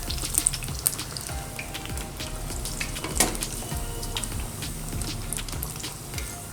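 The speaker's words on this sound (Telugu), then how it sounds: "ఒక వన్ మినిట్ పాటు లో ఫ్లేమ్లో అలా వేగనివ్వండి" Spinach and leftover-rice vadas frying in oil over a low flame, a steady close crackling sizzle with a few small clinks, and no one talking.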